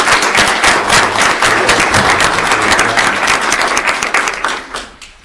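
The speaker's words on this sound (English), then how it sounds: "Please give them a big round of applause." A meeting audience gives a loud, close round of applause with dense clapping. It holds steady for about four seconds, then thins out and trails off.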